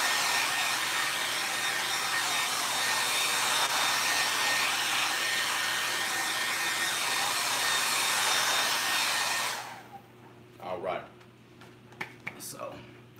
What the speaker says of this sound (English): we're using the blow dryer to dry it a little bit